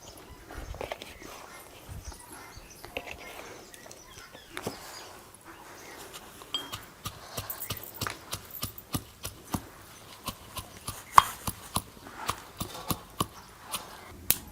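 Green chillies and finely chopped garlic with salt pounded together for Maharashtrian thecha: steady, close thuds that begin faintly and become a firm, regular pounding rhythm in the second half.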